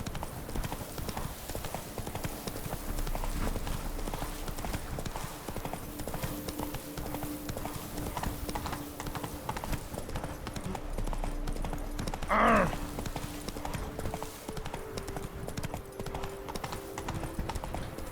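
A horse in The Witcher 3 video game clip-clops at a steady trotting rhythm, hooves sounding continuously over game ambience, with a brief whinny-like call midway and no speech.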